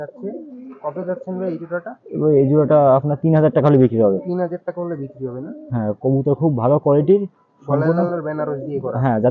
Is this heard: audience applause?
no